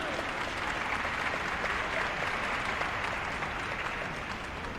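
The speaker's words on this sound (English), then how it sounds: "give our teachers and staff a round of applause" A large crowd at a high school graduation ceremony applauds teachers and staff, a steady dense wash of clapping that continues evenly throughout without a break.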